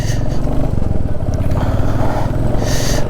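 A Hero Xtreme 125R motorcycle riding off near Manali: a loud, close single-cylinder engine drone with a steady throbbing note and slight surges as it pulls away, no talking.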